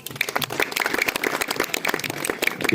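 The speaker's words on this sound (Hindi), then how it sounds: "जोरदार तालियों के साथ इनका भी जो है इस्तेमाल कीजिए" Applause rings out from the crowd at a junior pigeon racing tournament ceremony, a continuous burst of many hands clapping at fairly close range, and no voice rises above it.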